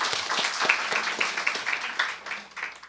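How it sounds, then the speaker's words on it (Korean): A church congregation claps warmly to welcome newcomers during a service, a lively burst of many hands with distinct individual claps, fading gradually toward the end. "오늘 새로 오신 분 잠깐 일어서시면 우리 뜨거운 박수로 환영하겠습니다."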